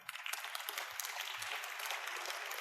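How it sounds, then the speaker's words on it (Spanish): A church congregation applauds, a faint, crackling spread of many hands clapping that carries on steadily for a few seconds. "Un aplauso al Señor."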